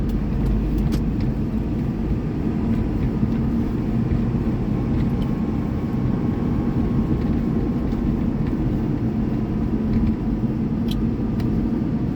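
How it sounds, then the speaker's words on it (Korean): A train passing close by, a heavy continuous low rumble with rattling that holds loud and steady from start to finish with no voices over it. "기차좀 보내겠습니다"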